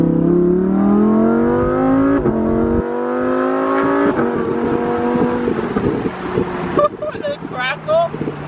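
Stage 2 BMW 435i accelerating hard, engine note climbing through successive gear shifts, loud and close with wind noise, ending in bursts of exhaust crackle while people talk over it.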